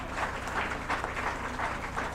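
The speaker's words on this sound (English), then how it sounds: "can I have a big round of applause for her?" An audience at a moot court prize distribution ceremony applauding, a soft even patter of clapping carrying on for the whole moment without talk.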